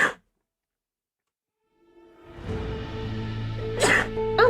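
A single close, sharp sneeze near the end, after a short voice at the start and a stretch of near silence, with a quiet hum swelling beneath it.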